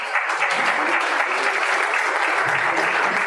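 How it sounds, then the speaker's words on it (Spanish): Applause from an audience at a DevFest 2019 tech talk in Bolivia: a steady, dense burst of clapping that carries evenly through the whole stretch, close and loud. "Un aplauso nuevamente para la aplicación."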